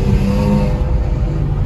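A car engine runs steadily and loudly up close, a continuous low rumble that holds even throughout with no pauses.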